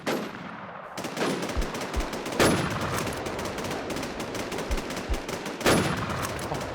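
Gunfire in the video game SurvivalZ: rapid automatic bursts rattle continuously, punctuated by a few louder, sharper shots.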